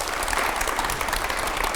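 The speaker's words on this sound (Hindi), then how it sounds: "चलिए जोरदार तालियां हो जाए।" Loud, dense applause from an interview audience, a steady wash of many hands clapping that fills the whole short stretch without letup.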